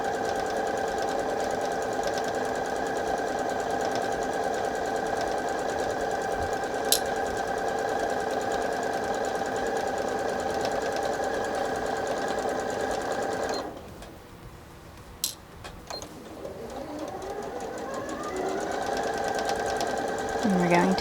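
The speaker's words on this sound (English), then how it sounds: "we're sewing along the entire length of the straps at 5/8 of an inch seam allowance" A sewing machine stitches along fabric straps at a 5/8-inch seam allowance, a steady fast mechanical whir running evenly, then pausing briefly before resuming, with a voice speaking over it.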